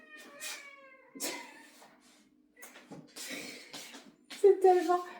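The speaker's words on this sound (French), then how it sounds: "Mon chat est très expressive." A pet cat meows expressively several times, with drawn-out, wavering and somewhat dramatic cries close by, mixed with a woman's speech between and over the calls.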